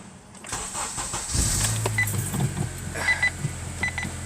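An Acura TSX engine cranks and catches, then settles into a steady idle nearby, with a few short electronic beeps over the running engine.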